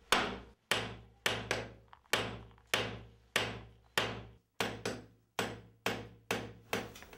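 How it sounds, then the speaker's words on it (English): Steady, heavy hammer blows on hot metal on an anvil ring out one after another at an even pace, each strike sharp and loud with a short decaying ring. "he'd pick it up with tongs and he'd just hammer repeatedly on an anvil"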